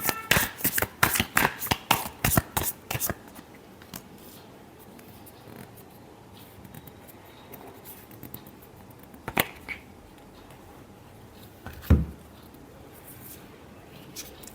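Tarot cards being shuffled, a quick run of crisp riffling flicks at the start, then quiet with a few isolated card snaps and taps later on, close by and with no speech.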